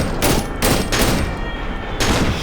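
A shotgun fires in the horror video game Cry of Fear, four loud booming blasts spaced roughly half a second apart over dense game noise.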